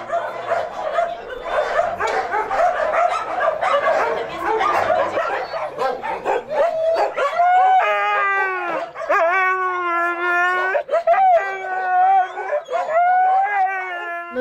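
Several dogs at an animal shelter bark and yip in a busy, overlapping chorus, then break into long, wavering howls that rise and fall together, loud and close throughout.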